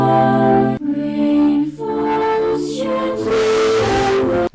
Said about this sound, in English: Next up, we got distortion.